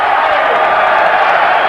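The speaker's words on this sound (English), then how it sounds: "a very appreciative crowd here in South Padre Island, Texas, applauds these two fighters" A boxing crowd at South Padre Island, Texas, applauds and cheers the two fighters. The steady wash of clapping and crowd noise stays loud throughout, with a commentator talking over it.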